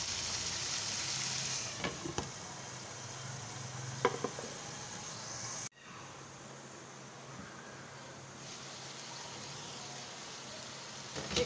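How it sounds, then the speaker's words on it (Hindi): Chicken fries in a covered pan, giving a steady, muffled hiss with a few faint clinks and taps. Partway through, the sound drops sharply and returns quieter and duller, over a low background hum. "मैं इसे कवर कर दूँगी ताकि चिकन फ्राई हो जाए अच्छी तरह से।"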